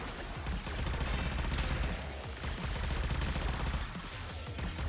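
In the video game Warframe, a Supra rifle fires continuously as a dense, loud, unbroken stream of rapid shots over several seconds, with no pauses and no voices.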